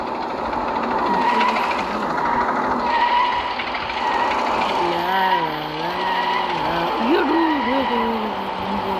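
A car drifts with a loud, continuous tire-skid noise and engine roar, the pitch wavering and sliding as it slips, with a voice talking briefly over the noise in the middle.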